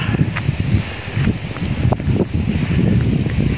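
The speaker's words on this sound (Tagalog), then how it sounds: "Lakas ng hangin dito." Strong wind buffets the microphone outdoors at a scenic lookout, producing loud, uneven low rumbling gusts that continue throughout.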